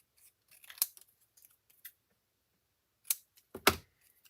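Scissors cutting paper for a handmade card craft: a few crisp, close snips, one near the start and a quick pair toward the end, separated by quiet rustling, with no talk.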